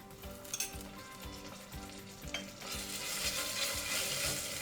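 Mutton with ginger garlic paste for Rajasthani laal maas sautéing in a pan, a steady close sizzle with spoon scrapes and stirring knocks, growing louder and denser toward the end, no voices.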